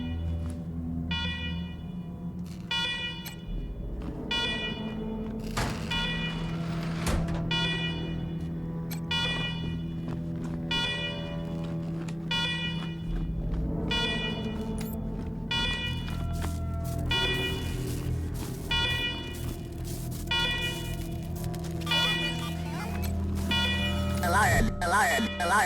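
Alarms blare steadily in the video game Wasteland 3, a loud pulsing electronic tone running throughout, with game voices talking over it and music underneath.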